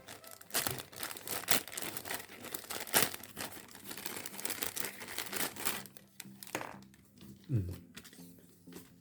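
A recycled LDPE plastic bag holding an Adidas face cover crinkles as it is opened, with sharp, close crackling bursts that taper off, and a voice talks over part of it.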